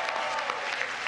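An audience at the 2023 White House Correspondents' Association Dinner bursts into dense, sustained applause, loud and steady across the ballroom.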